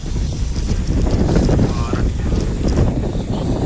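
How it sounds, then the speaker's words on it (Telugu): Strong wind roars during a heavy rainstorm in Hyderabad, a dense, constant gusting buffet that buries everything else throughout. "అసలు గాలి ఎంత వస్తుంది"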